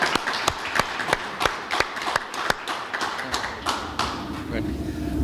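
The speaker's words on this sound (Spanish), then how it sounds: "un caluroso aplauso para nuestro doctor" Scattered applause from a small audience at a book presentation, individual claps sounding as sharp distinct snaps in an irregular rhythm, moderately close, fading toward the end with faint murmuring beneath.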